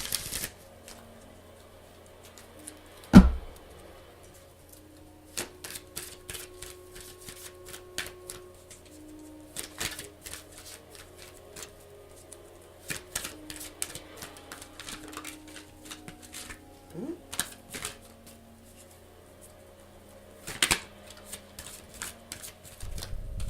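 Tarot cards shuffled by hand in short riffling bursts with crisp snaps and flutters, separated by quiet pauses and soft handling, close and fairly faint.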